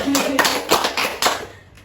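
A group performs a rhythmic clapping chant in a school counseling lab role-play, with several distinct sets of claps spaced in a pattern and voices speaking alongside.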